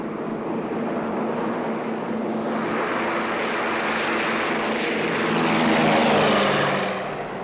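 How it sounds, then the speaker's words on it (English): A propeller airplane departs in a loud, steady drone that swells near the end as it passes close, with no voices over it. "There's my plane."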